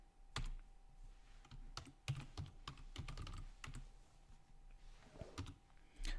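Keys clatter on a computer keyboard as a terminal command is typed into a Debian desktop, a quick irregular run of close, crisp clicks with brief pauses and a heavier final keystroke near the end.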